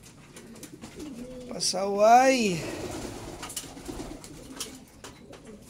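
Racing pigeons, hens kept with young birds in a loft, give a clear rising and falling coo near the start, followed by softer background bird murmurs while someone speaks briefly.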